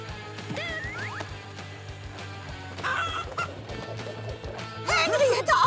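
A cartoon chicken clucks in several short bursts against a steady mechanical winch hum, with a more excited flurry of clucks near the end.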